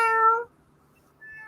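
A house cat named Cleo gives one clear, close meow, then a brief pause and the start of a second, softer mew.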